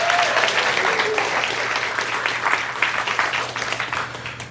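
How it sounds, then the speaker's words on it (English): An audience at a conversational hypnosis seminar breaks into sustained applause, dense clapping that holds steady for several seconds before slowly thinning out. "give yourself a round of applause for sure"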